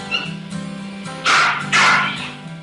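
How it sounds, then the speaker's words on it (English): A Jack Russell Terrier at an old inn gives a few sharp, close barks, with two strong yaps near the end and quieter whines before them. "she'll occasionally bark at something that can't be seen by human eyes"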